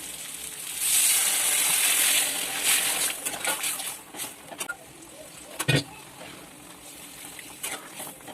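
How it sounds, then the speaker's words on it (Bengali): Water poured into a hot cooking pan holding fish roe, giving a loud hissing rush at first that settles into softer sizzling and bubbling with a few clinks, fairly close. "এবার দিয়ে দিচ্ছি জল"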